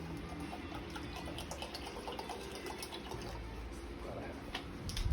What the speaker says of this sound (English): We're gonna do 1 bottle of water.